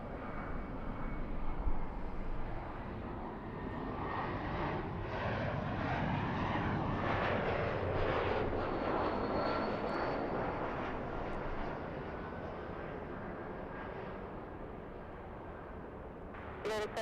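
A Boeing 757 jet roars on takeoff at LAX, with a steady, loud engine rumble that swells toward the middle and then slowly fades, while faint voices talk underneath.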